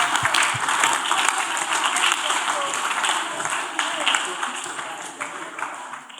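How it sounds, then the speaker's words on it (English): Church congregation clapping for Jesus during a sermon, a dense burst of applause that thins out, with voices calling over it. "clap for Jesus"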